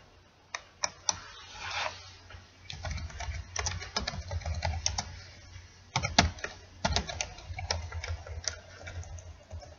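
Fingers type on a computer keyboard in uneven clusters of light clicking keystrokes, close by in a quiet room, with short gaps between the flurries.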